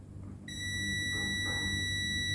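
A continuity tester starts a steady high-pitched electronic beep partway through, sounding continuously and close while a piano keyboard sustain damper pedal is checked during repair.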